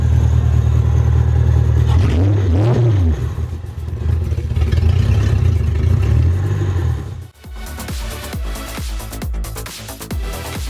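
A Lexus LS 400 drift car's engine idles with a steady rumble and a couple of rising revs, then drops into a rougher, clattering run near the end.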